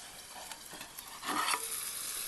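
Mango pieces frying in a pan of Nellore-style fish curry, a soft continuous sizzle with a brief louder stirring swell midway, close and fairly quiet, no talking.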